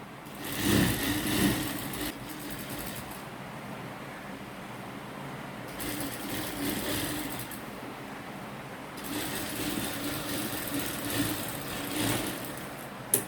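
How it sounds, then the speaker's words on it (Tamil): Sewing machine running double rows of stitches along the edge of a tailored coat, in several loud sustained bursts separated by short pauses. "இதுக்கு டபுள் தையல் போட்டோம்"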